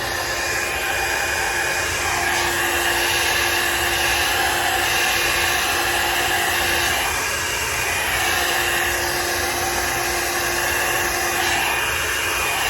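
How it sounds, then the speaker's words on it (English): A hair dryer on its heat setting blows continuously at close range, a loud steady whooshing roar with a constant whine and no pauses. "I flipped my dryer on heat by accident."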